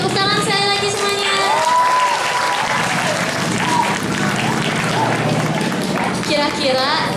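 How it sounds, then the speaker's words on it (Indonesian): An audience at a Maulid Nabi religious gathering claps steadily and densely, the applause filling the room for several seconds with cheering and voices mixed through it. "Tepuk tangan saya lagi semuanya."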